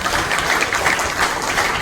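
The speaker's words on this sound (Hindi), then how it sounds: "तालियां बजती रहनी चाहिए हम सब के लिए।" Dense, steady applause from an audience at a Hindi-language education event honoring an IAS officer, sustained and fairly loud throughout without pauses.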